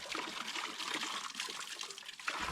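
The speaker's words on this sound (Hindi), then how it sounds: "अगला पानी का पॉइंट मिल चुका है, जहाँ पे हम पानी भरेंगे।" Water trickling at a natural water point along the Rudranath mountain trek, a steady, soft broadband splash and dribble running throughout at close range, with no voices.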